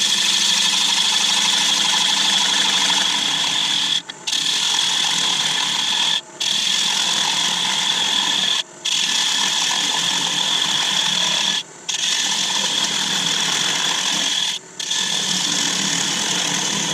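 Wood lathe turning an elm bowl as the tenon is cut away, a steady broadband scraping hiss of the gouge on spinning elm that runs continuously and loud, broken by five brief pauses spaced a few seconds apart.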